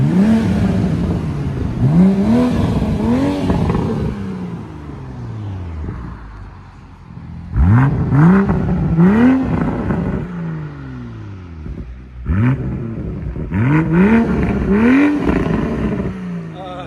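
A Toyota Supra GR with a 3.0-litre inline-six, fitted with an aftermarket exhaust, revved repeatedly in three loud, close bursts that climb and fall, with people talking in between.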